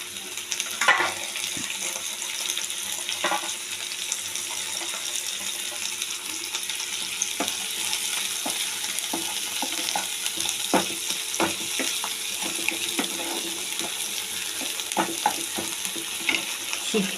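Tomatoes fry with onions in a pan, a constant close sizzle and hiss running throughout, broken by scattered small clicks and scrapes of stirring.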